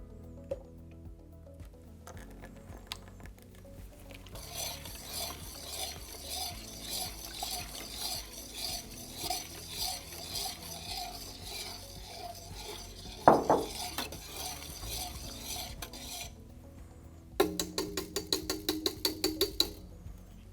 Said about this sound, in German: Und rühren zuletzt unser Blackie Liquid mit ein.